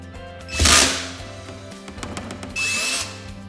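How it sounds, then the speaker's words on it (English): A power drill drives screws into the glued corners of a wooden frame for a plexiglass table divider, giving two loud, short whirring bursts with a quieter stretch of workshop noise between them. "Step 11, glue and screw the remaining corners of the frame."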